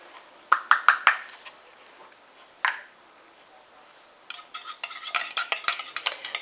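Spoon stirring urea into oat milk in a bowl while mixing a homemade hand cream, with repeated clinking scrapes in bursts, a pause, then faster rhythmic stirring, close and fairly loud.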